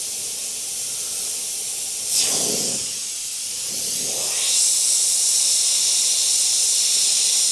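An airbrush hisses steadily while spraying paint onto a clown design, the airflow surging and shifting in pitch as the brush moves, then blowing continuously and close with no talk.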